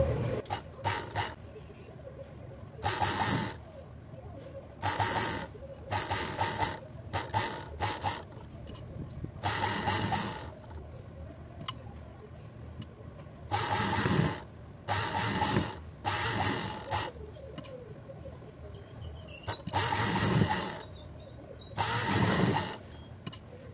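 A sewing machine stitches a high neck blouse with lining in several separate bursts of rapid mechanical clatter, each a few seconds long, with quiet pauses between as the fabric is adjusted.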